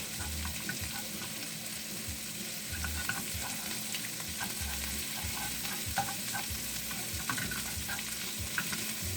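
Small nuggets of chorizo frying and browning in a pan, a steady loud sizzle and crackle with occasional stirring scrapes throughout, no voices.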